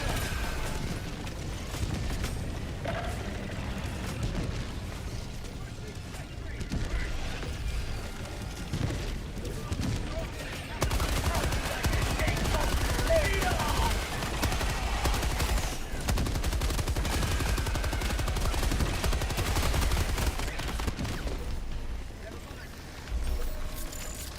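A minigun fires in Helldivers 2 amid battle, a dense, continuous roar of rapid gunfire that swells and ebbs over the clip, with in-game voices and mechanical clatter mixed in.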